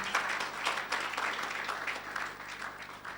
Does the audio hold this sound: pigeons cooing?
no